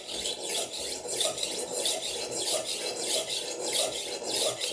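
A knife is drawn back and forth on a Horl 3 rolling sharpener, a close, steady rasping with quick rhythmic strokes, roughly three a second, continuing without pause.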